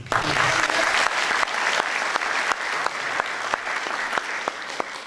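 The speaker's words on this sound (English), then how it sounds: "please, to give them a big applause" An audience at a national public speaking contest applauds the participants, a dense, loud, continuous wash of clapping from a large crowd with a few sharper individual claps standing out.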